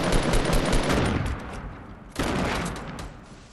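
Two loud, close bursts of rapid gunfire in Fortnite Battle Royale, the first long and fading, the second starting sharply after a brief lull, with no voices over them.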